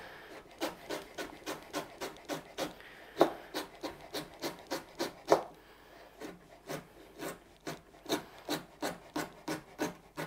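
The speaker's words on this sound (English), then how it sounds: "let's just cut it lengthwise first, and then just cut across nice and fine" A knife chops food on a cutting board in steady, quick, evenly spaced strokes, close and crisp, about two per second, with a couple of slightly harder hits and no talking.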